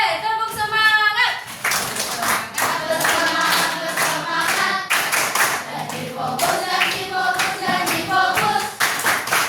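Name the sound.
class doing a rhythmic spirit clap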